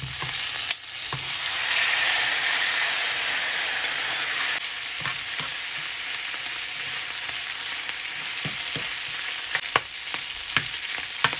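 Meat frying in butter as its fat renders gives a bright, steady, close hiss, with occasional small pops and utensil taps, with no talking.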